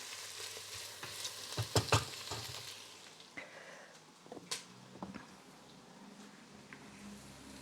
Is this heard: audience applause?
no